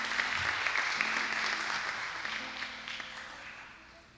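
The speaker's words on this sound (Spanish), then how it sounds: "Podemos darle un fuerte aplauso, por favor." A church congregation gives a round of applause, a broad wash of clapping that holds steady and then gradually fades toward the end.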